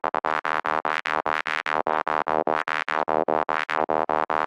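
Gated synth lead in Serum 2, chopped by an LFO into a fast rhythmic pattern of short, evenly spaced bright stabs, loud and alone with no talking.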